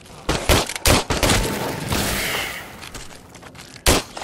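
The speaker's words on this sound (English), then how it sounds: "Burst fire is our friend." Repeated bursts of gunfire in the VR shooter Into the Radius, several sharp loud volleys in quick groups with a sustained noisy stretch between them and a final close burst near the end.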